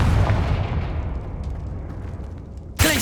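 A Confringo fire-blast spell in the Hogwarts Legacy video game: a booming blast that decays into a long rumble, then a sharp new burst near the end, loud and with no voices.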